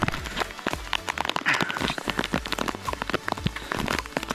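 Rain pours down on a misty, fog-bound trail up Torna Fort, drops pattering densely and irregularly on nearby surfaces and gear, close and loud throughout with no voices.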